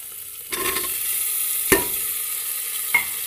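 Potatoes dropped into roasted masala frying in oil, giving a continuous close sizzle broken by a few sharp stirring clacks and splatters.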